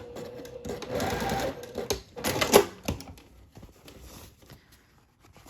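A sewing machine bastes elastic in place, stitching in short whirring, rapid-clicking bursts that start and stop, heard up close in a quiet room.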